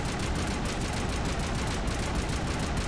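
Rapid sustained automatic gunfire from a fully upgraded weapon in Mass Effect, a dense, loud unbroken burst of shots with no pauses.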